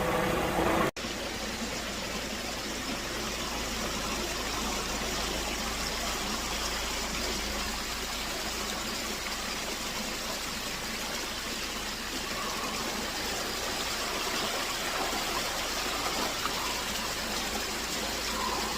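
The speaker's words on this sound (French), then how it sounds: "Petite cascade, très sympathique." A small waterfall on a rocky mountain trail near the Hohneck and Col de la Schlucht gushes in a steady, close, continuous rush of water that stays loud throughout, with no voices.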